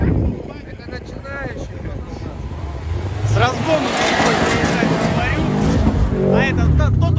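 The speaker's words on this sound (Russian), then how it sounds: "Субару с места стронуться не может." A Subaru strains to pull away from a standstill on a hill climb, its engine revving hard in a rising, steady roar while people talk loudly over it.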